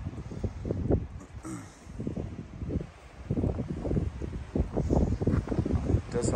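Gusty wind buffets the microphone on open off-grid land, rising and falling in loud rumbling bursts with some rustling, steady through the whole stretch.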